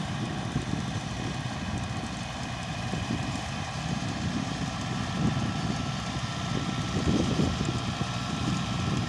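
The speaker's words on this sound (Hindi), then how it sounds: "दोनों लीवर डाउन होकर चल रहा है, सात फीटर रोटर वेटर है" A 1997 Mahindra 265 tractor drives a 7 ft rotavator with both levers down, its engine giving a steady, loud, continuous rumble with no break and no talk.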